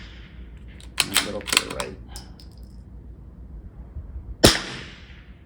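A single sharp, loud crack of a gunshot aimed at a Caldwell Flash Bang hit-indicator target lands near the end, after someone speaks briefly amid a few clicks and rustles.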